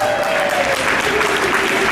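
Wedding guests applaud with dense, steady clapping that fills the reception room, loud and continuous with a faint voice underneath.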